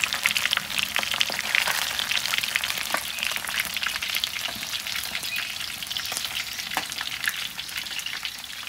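Snakehead fish deep-frying in hot oil for a crispy, battered finish, giving a dense, continuous crackling sizzle with scattered sharp pops, close up and steady throughout.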